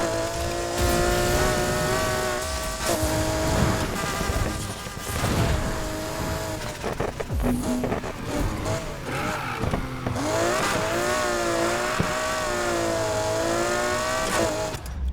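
McLaren engine revving in the racing game Need for Speed Heat, a steady high whine with shifting pitch through gear changes, loud and continuous, with a voice talking over part of it.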